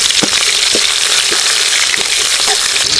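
Onions drop into hot oil with crackled mustard seeds and cumin, giving a loud, continuous frying hiss up close, with regular scrapes of a spoon stirring the pan about twice a second.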